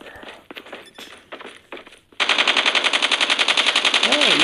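Gunfire in the Call of Duty mobile game starts after a few scattered thuds: a loud, sustained automatic burst of rapid, evenly spaced shots, with a rising and falling tone at the end.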